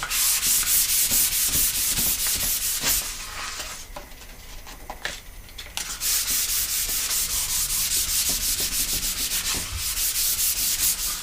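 Sandpaper on a soft pad rubs rhythmically back and forth across skateboard wood in quick, close strokes, pausing briefly for a couple of seconds midway before the steady scratchy sanding resumes.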